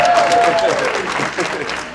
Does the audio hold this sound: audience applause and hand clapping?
yes